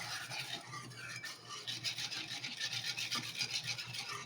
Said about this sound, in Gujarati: બધી જ પેસ્ટ આમાં એડ કરી દીધી છે અને સારી રીતે હજી મિક્સ કરી લેશું.